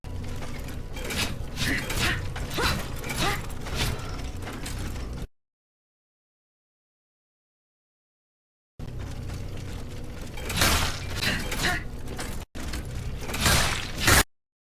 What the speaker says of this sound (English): A level of stuttering that has at times rendered the game more or less unplayable.